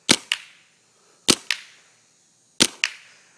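A Thistle SLS paintball marker, run at about 2,000 psi with the loader rotor on, fires three evenly spaced pairs of sharp, close pops, each pair a quick double crack followed by a short decaying tail.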